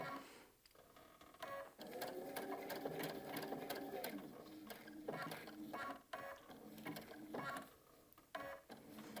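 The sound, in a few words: sewing machine stitching a quilt table runner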